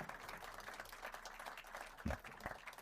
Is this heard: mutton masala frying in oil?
no